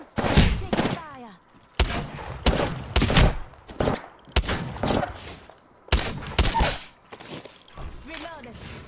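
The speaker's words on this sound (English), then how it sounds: "I'm getting shot at. Firing. I'm supposed to take fire." Rapid bursts of video game gunfire crack out in several separate volleys, loud and close, with a player's voice talking between and over the shots.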